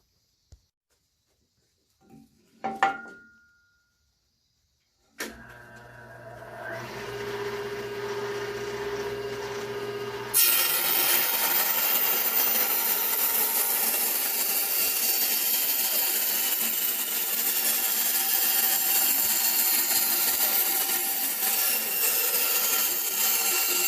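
Maple guitar body piece being cut out with a power saw for a handmade custom guitar, a steady loud cutting whine running continuously after a few brief knocks and a lower motor hum.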